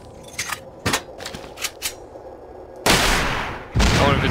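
Several sharp gunshots crack in quick succession during a video game boss fight, followed by two long bursts of loud, dense gunfire, all close and without talk.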